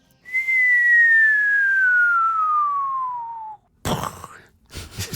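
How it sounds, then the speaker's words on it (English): A single human whistle glides smoothly and continuously from a high pitch down to a low one over about three seconds, heard alone in a quiet room, with brief talking sounds following. "Just the continuous sound from a high pitch to a low pitch."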